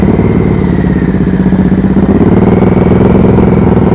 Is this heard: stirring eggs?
no